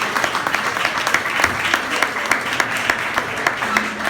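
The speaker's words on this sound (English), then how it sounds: "That was real strong applause." Close, loud audience applause after a stand-up comedy set in a DC comedy venue, a smaller crowd's clapping with distinct individual claps and cheers popping out of the steady patter.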